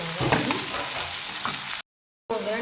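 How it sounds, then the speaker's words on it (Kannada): Pumpkin for a palya being stirred with a tempering in a pan: steady close sizzling and frying with scraping stirring strokes, cut by a brief dead-silent gap before the sizzle resumes. "ಇವಾಗ ಸ್ವಲ್ಪ ಒಗ್ಗರಣೆ ಜೊತೆ ಇದು ಕುಂಬಳಕಾಯಿನ ಮಿಕ್ಸ್ ಮಾಡ್ಕೊಳ್ಳಿ."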